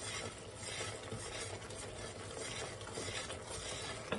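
Garlic, ginger and spices are stirred in a hot pan while preparing vegetable pulao, giving a continuous soft sizzle with faint scraping. The sound is close and steady, with no voices.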